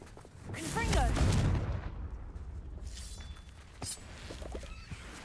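A Confringo blasting spell in Hogwarts Legacy bursts into a loud, booming explosion that rumbles for about a second, then fades into softer game ambience with faint crackles.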